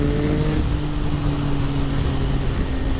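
Triumph Sprint 955i motorcycle engine running close by, a steady, even drone with a low throb that holds without pause for a few seconds, no talking.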